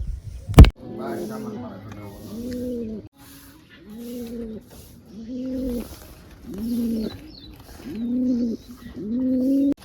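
Pigeons perched on a wooden stick give deep, repeated cooing calls in a steady rhythm, close and clear, with a sharp click at the start and a quiet voice in places.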